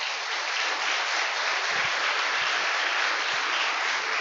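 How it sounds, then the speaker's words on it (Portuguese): A church congregation claps at an evening communion service, producing dense, steady applause that stays even and fills the whole stretch without talk. "Palmas para ele."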